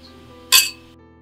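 A single bright clink of glasses touched together in a toast, one sharp close ring that decays quickly in a quiet room.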